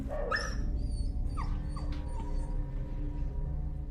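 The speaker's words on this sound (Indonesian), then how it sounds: "Tak lama kemudian Dina mendengar si Dogi yang menggonggong di dalam rumah" A dog inside a house gives high whimpers and yips rather than full barks, close and fairly loud over a steady low background hum, with no talking.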